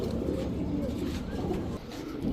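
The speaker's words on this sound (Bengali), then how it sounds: "এখন দেখাবো এক জোড়া হোয়াইট কামারগার কবুতর" A pair of white Kamargar pigeons coo in low, throaty, repeated rolls, close by and steady over a faint background murmur.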